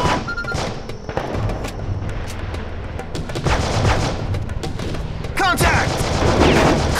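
Gunfire in the video game Heavy Fire: Afghanistan, played with a motion controller, with repeated loud shots and bursts clustered into volleys, booming impacts and dense battle noise throughout, alongside voices.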